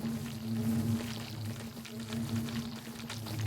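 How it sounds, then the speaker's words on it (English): Bees at a beehive farm in Minecraft make a soft, continuous droning buzz with a steady hum, faint and unbroken, with no talking. "Bees come out during the day, grab pollen,"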